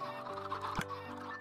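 Chickens cluck steadily in an automatic raw chicken farm inside a Minecraft-style game world, several birds overlapping in a continuous, moderately loud flock chatter over faint game background tones.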